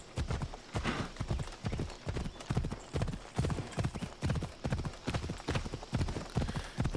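Horse hooves in the video game Assassin's Creed Odyssey clip-clop in a quick, steady rhythm, sounding close and continuous.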